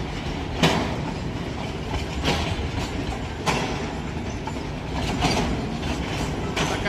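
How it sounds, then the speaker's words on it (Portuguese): A train passes through Itanhaçu, Bahia, its loud steady rolling rumble filling the whole stretch with periodic clanks as wagons cross the rail joints. "Essa foi a passagem do trem Itanhaçu, Bahia."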